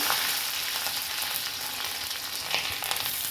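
Mustard seeds, curry leaves and onion sizzle and fry steadily in hot coconut oil, a loud, continuous close-up crackle with occasional pops and no talking.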